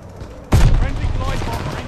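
A grenade blast in Call of Duty Vanguard, a sudden loud, close boom that breaks out of quiet background and leaves a rumbling, crackling tail of gunfire-like debris fading slowly.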